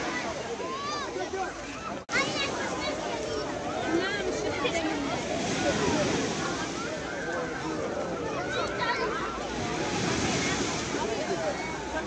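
Waves wash continuously along a seashore, a steady broadband surf roar with wind on the microphone, while someone talks over it.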